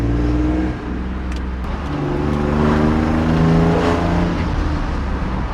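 Engine of a 2006 GM single-cab truck with a manual transmission, running with a steady low rumble that swells slightly mid-way, close and loud throughout.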